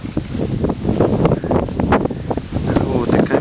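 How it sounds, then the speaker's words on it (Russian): Strong wind gusting outdoors at a customer's house, rushing and buffeting the microphone continuously and loudly throughout. "Сегодня большой ветер."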